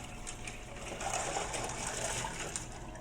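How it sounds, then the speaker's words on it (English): Water pours into a cooking pot for pasta, a steady gushing fill that runs continuously and close, with no talking. "I have some water in this pot, so it will be easier."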